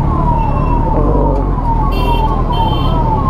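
An ambulance siren wails repeatedly over dense traffic rumble in a jam on an Indian road near Etawah, loud and steady with overlapping engine noise and a few brighter electronic tones.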